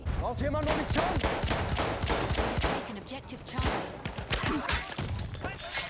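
A weapon fires in the video game Battlefield 1 in rapid, loud, close bursts of gunshots packed densely together, with a short lull before the firing picks up again.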